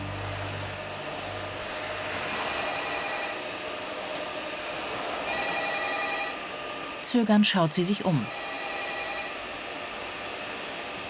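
A telephone rings in short bursts over a vacuum cleaner running in a police office, the steady suction drone filling the background while a voice speaks briefly.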